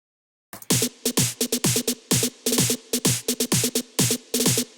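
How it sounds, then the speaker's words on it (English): A punchy electronic drum beat for progressive house, with rapid, tightly spaced trap snare hits in a driving, repeating rhythm, loud and alone with no voices. "It's a faster snare drum hit, and you can play around with the rhythm."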